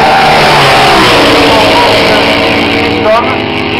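A classic 750-class racing motorcycle approaching at the Chimay classic bike races: a loud, sustained engine drone that rises in pitch, with a commentator speaking over it.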